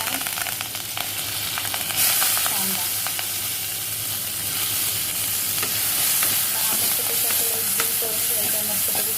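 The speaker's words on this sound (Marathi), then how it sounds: "आता आपल्याला तडका द्यायचा जिरा त्याच त्याच्यामध्ये जिरा हिरवी मिरची" Cumin seeds and green chillies sizzle steadily in hot oil as a tempering for a dry pointed gourd and potato dish, a loud, continuous crackling fry with scattered pops, close up and without talk.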